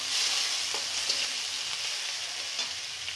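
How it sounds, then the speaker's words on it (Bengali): Garlic sizzles lightly in a pan with spice paste, a steady close frying hiss with faint crackles and no talking. "রসুন দিয়ে দিচ্ছি, দিয়া এটা হালকা ভাজি করতে হবে।"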